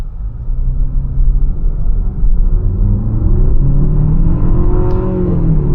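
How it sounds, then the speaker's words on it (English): A 2025 Infiniti QX60 VC-Turbo spinning its wheels at high RPM, with a loud, close engine drone that rises steadily in pitch as it accelerates, over a low road rumble. "Wheel spin at high RPMs."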